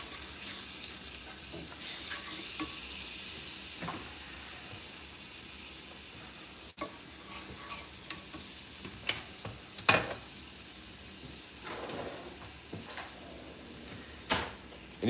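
Onions and garlic frying in a pan, a faint steady sizzle broken by occasional scrapes and clicks of stirring, low in level with no voices.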